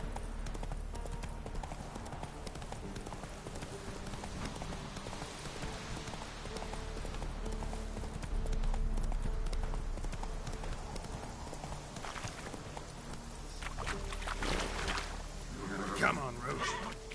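Roach the horse galloping in The Witcher 3: Wild Hunt, with a steady rhythmic run of hoofbeats under a low rumble, and a voice speaking over it.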